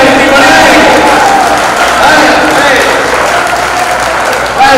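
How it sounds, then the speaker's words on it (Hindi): Loud, dense applause from a large audience at a Hindi poetry gathering in Mahoba, sustained without a break, with voices mixed in under the clapping. "तालियां कमजोर है भाई"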